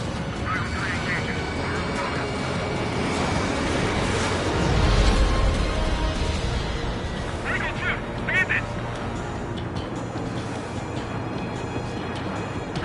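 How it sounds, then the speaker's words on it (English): Jet aircraft roar steadily in an Ace Combat 7 dogfight, a broad sustained rumble that swells briefly midway, with radio chatter and game voices layered over it throughout. "Watch out for the support aircraft."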